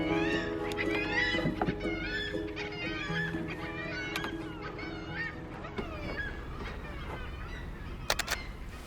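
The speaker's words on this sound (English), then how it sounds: "That's the sound of the kittiwake." Kittiwakes calling from a harbour windowsill in Lofoten, Norway: repeated nasal, rising-falling cries overlapping one another, fairly close, with a few sharper bursts near the end.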